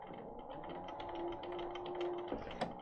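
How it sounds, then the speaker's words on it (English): A sewing machine set to a short stitch length of about 1.6 runs steadily, stitching fabric in a quilting workshop, with a continuous close mechanical whir and a couple of louder clicks near the end. "I'm going to start sewing"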